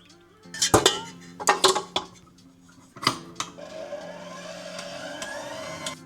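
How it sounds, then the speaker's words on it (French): A stand mixer starts whisking egg whites for French meringue: loud metallic clinks and knocks of utensils against the bowl come first, then a steady motor whine sets in and runs on evenly, close by with no voices. "on va pouvoir ajouter les blancs d'œufs et commencer à les faire tourner au batteur"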